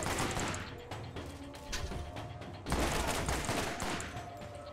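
Rapid gunfire from a weapon in the Borderlands video game, dense bursts of shots filling the clip, swelling louder in the second half with no one talking.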